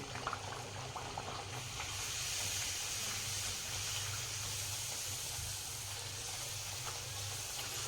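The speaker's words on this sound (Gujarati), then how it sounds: "હવે અમે એક એક પૂરી નાખી આ રીતના આપણે તળી લઈશું." Wheat flour puris frying one at a time in hot oil, a steady, close, even hiss and bubbling with a low hum underneath, no talk.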